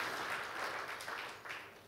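Congregation applauding in praise of Jesus Christ during an online Christmas church service: quiet, steady crowd clapping heard faintly at a distance for a brief moment.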